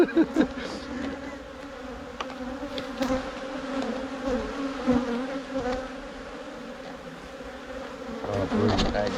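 Dense, steady drone of many honey bees swarming around an open hive during a honey harvest, a continuous loud buzz close by with no talking.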